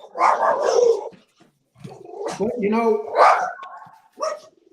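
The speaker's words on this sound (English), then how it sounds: "my dog's barking at your dog" A dog barks at another dog, its barks mixed in with a conversation between two people, loud and close in short bursts.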